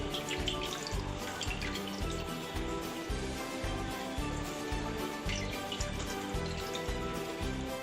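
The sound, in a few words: squeezing water out of chhena through cotton cloth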